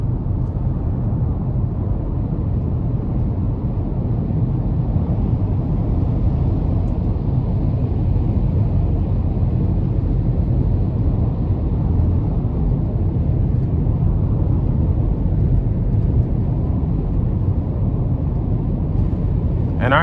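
2021 GMC Terrain SLT with a 1.5T engine accelerating on the highway, heard from inside the cabin as a steady low road and engine rumble that holds constant throughout.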